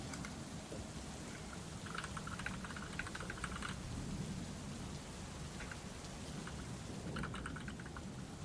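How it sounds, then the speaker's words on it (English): Steady rain falls in a dense, continuous hiss, with a low rumble that may be distant thunder running beneath it and no voices. "It's still raining"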